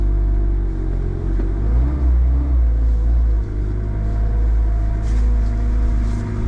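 A Suzuki Alto Works pulls away and drives on the road, its small engine giving a steady, close low rumble inside the cabin with slight rises as it picks up speed, no talk over it.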